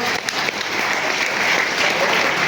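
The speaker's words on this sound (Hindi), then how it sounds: "एक बार इसके लिए जबरदस्त तालियां करूंगा।" Hearty, dense applause from a seminar audience at a marketing talk, a continuous wash of many hands clapping at even loudness throughout.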